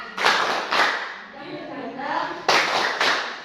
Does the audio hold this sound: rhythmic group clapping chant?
yes